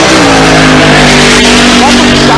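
A six-cylinder drag race car holds a loud, steady engine rev at the starting line during Race Week in Pueblo, Colorado, the close, harsh tone sustained without a break.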